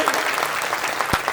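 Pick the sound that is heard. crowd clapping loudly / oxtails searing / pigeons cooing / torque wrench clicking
crowd clapping loudly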